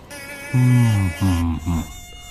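Buzzing of a giant mosquito ridden by a wolf in an animated horror story, a droning whine that swells in three loud pulses over a steady insect hum.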